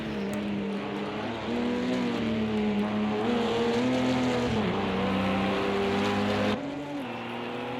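LMP prototype race cars scream past in a Le Mans sim racing game, sustained high-revving engine tones rising and falling with gear changes, loud and continuous with no talk.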